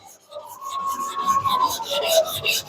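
A 250mm Takeda NAS gyuto is hand sharpened on a whetstone, with steady rhythmic gritty rasping strokes scraping back and forth, close and continuous.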